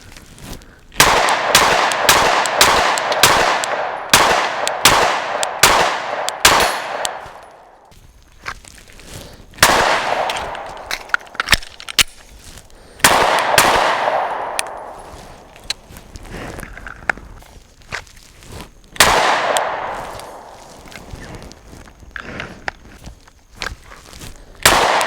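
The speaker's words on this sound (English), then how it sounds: "I want to do some shooting" A Glock 43X pistol fires in quick strings of sharp, loud shots, several rapid bursts separated by short pauses, each crack ringing out over an open outdoor range.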